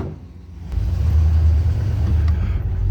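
A crusty old Ford F-100 with a 5-speed fires up into a loud, deep, steady idle rumble after quieter ambience, the low engine drone holding close and constant.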